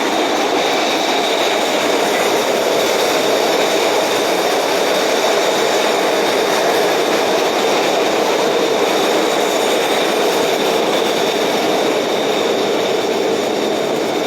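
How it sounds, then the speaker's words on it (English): A train rumbles loudly across a trestle bridge overhead, heard from underneath by the Neponset River in Quincy, a dense steady roar of wheels on rails with faint metallic clatter throughout. "Whoa, there goes a train now."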